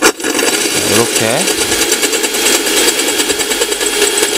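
A diamond tile drill bit grinds into slippery polished porcelain tile with a loud, dense, continuous whirring and rasping whine, while someone speaks briefly near the start.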